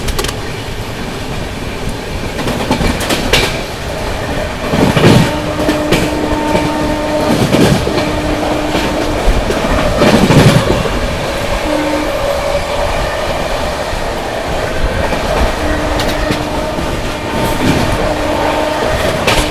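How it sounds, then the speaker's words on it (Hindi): The 12430 New Delhi–Lucknow AC Superfast Express speeds through Balamau Junction, a loud continuous rushing roar with rhythmic clattering of wheels over rail joints and periodic thumps as coaches pass, heard from on board without talk. "अपनी ट्रेन जो है बालामऊ जंक्शन स्किप करने वाली है"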